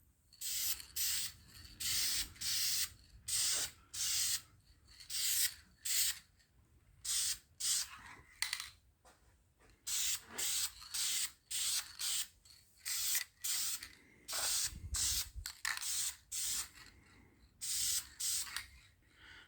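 Spray painting an engine crank and cylinder heads, many short hissing aerosol bursts in an irregular rhythm with brief pauses and rattling, close and fairly quiet.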